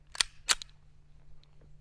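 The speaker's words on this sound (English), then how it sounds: "Let's get into some shooting." A Dan Wesson DWX pistol fires at a shooting range. Two sharp, quick shots crack about a third of a second apart, then quiet background hum follows, with no talking.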